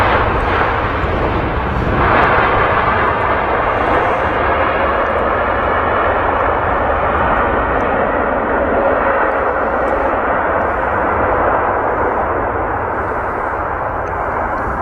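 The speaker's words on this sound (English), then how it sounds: "I've got a Qatar 777. Nice smoky touchdown there" A Qatar Airways Boeing 777 touches down at Manchester Airport, heard as a loud, steady roar of engine and airframe noise that holds throughout, close and broad with no talk over it.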